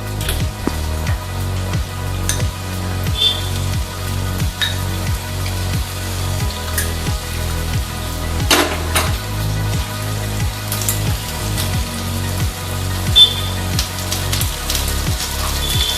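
Potatoes, seasoned with salt and turmeric, fry in a pan for a Bengali dish, giving a steady, rain-like sizzle and crackle with a faint low rhythmic pulse underneath.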